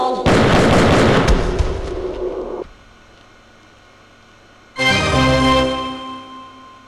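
Gunfire in the Martian Gothic video game: a dense, loud burst of shots for about two and a half seconds, a quiet gap, then a second heavy burst that fades out.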